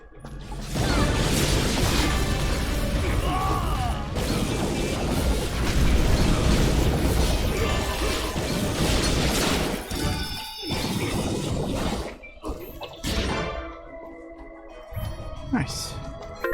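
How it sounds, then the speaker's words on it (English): Video game Dust: An Elysian Tail fills with dense, continuous crashing explosions and clattering mechanical bursts for about twelve seconds, then thins into scattered lighter impacts and effects. "Hooray! Explosions."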